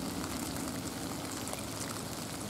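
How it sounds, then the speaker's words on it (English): Rain pours down outdoors at a Michigan vernal pool, a dense, even hiss of drops that stays constant and fairly loud with no talking. "I'm out here in the rain"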